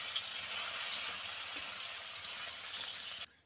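Light frying in oil in a pan while cooking a Bengali loti dish, a steady close bright sizzle and hiss that holds evenly, then cuts off abruptly near the end, with no talk.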